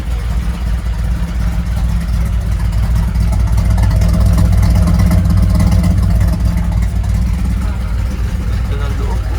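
A Datsun 240Z engine idles loudly with a deep, rumbling exhaust, close and continuous with a slight rise in intensity midway, and a voice can be heard talking over it.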